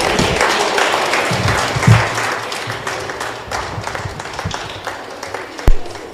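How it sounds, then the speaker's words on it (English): A crowd gives a big round of applause at a signing ceremony with a president present, a steady wash of clapping with a few louder claps and a sharp knock near the end. "another big round of applause"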